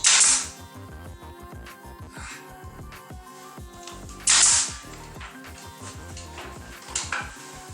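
Hammer blows drive nails into wooden boards for a farmhouse-style range hood, sharp knocks in quick rhythmic runs, close and fairly loud, with a few louder clattering impacts.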